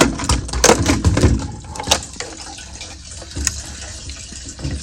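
Gasoline drains from a Kia Forte car's fuel system, splashing and gushing in uneven bursts that ease to a quieter trickle, close by and with no talking.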